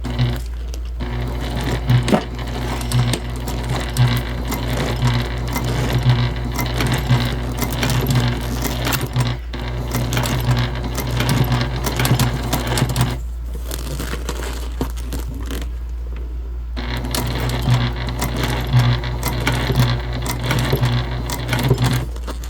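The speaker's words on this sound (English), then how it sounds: "this is just a top stitch here" A sewing machine top-stitches a clutch bag, its motor whirring in steady, rapid bursts up close, with a brief pause midway before stitching resumes, accompanied by faint fabric rustling.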